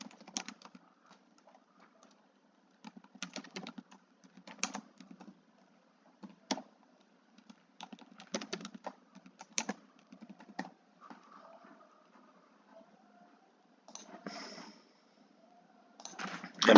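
Password being typed on a computer keyboard: irregular bursts of quick, light key clicks with short pauses between runs, close and fairly quiet, with no talking.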